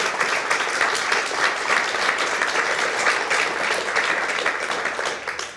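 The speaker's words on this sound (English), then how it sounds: "I think that's worth a round of applause." An audience at the Irish Book Awards breaks into a dense, sustained round of applause, loud and even throughout.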